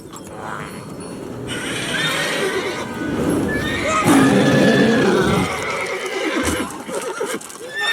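Roach, Geralt's horse in The Witcher 3: Wild Hunt, neighs and whinnies loudly and close up, with hooves clip-clopping underneath and game ambience filling the background.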